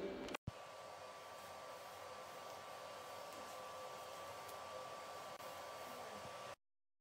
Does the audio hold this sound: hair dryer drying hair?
yes